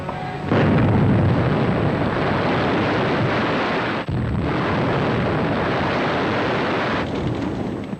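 Explosions destroying factories and fish oil tanks in WWII footage: a loud, continuous broadband roar and rumble that starts abruptly, breaks briefly partway through and then surges on, with no voices.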